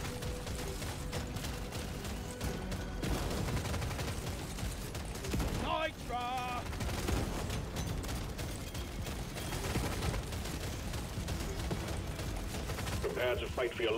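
Rapid gunfire from double frontal shots in Deep Rock Galactic: Survivor forms a dense, continuous rattle, mixed with mechanical clicks and electronic game effects.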